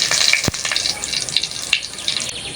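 Dried red chillies and torn bay leaves dropped into hot oil, a sharp splash then bright steady sizzling and spitting, close and fairly loud, with no talk.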